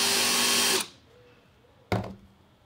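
A power drill fitted with a hole cutter bit whirs loudly and steadily while cutting through webbing on a cutting block. It stops abruptly, and after a brief pause a short second burst starts up, close by, with no talking.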